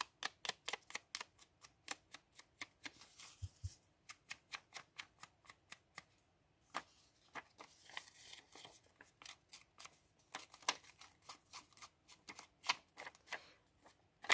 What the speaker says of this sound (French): Donc j'ai opté pour le ciseau cranteur, pour les ciseaux cranteurs